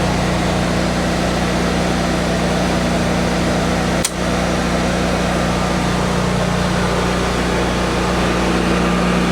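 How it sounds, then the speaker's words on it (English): A Generac 26 kW natural gas standby generator runs with a steady, loud mechanical hum and fan drone, interrupted by a single sharp click partway through before the same droning continues. "then a minute later, the generator should shut off."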